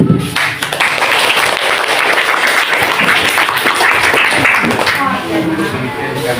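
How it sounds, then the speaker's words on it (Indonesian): Dense applause for a small group at a teacher-training session, a steady wash of many hands clapping that runs the whole time at fairly close range and fades slightly near the end. "Beri aplaus kelompok kami."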